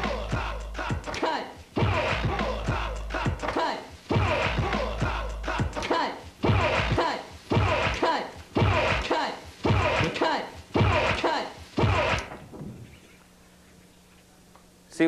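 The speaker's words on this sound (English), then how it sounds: "We call it backspinning because it's the art is to turn the record backwards" DJ backspinning a vinyl record on turntables in a 1989 hip-hop scratch demonstration: a punchy beat repeats in short looped bursts with sharp cuts between them, loud and steady, then stops and leaves a faint hum.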